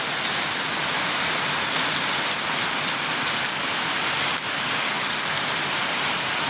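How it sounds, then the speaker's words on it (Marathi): Heavy rain pours down steadily, a dense unbroken hiss of drops drumming on surfaces with no letup. "जोरदार पाऊस एकदम पडटा, भयानक असो पाऊस"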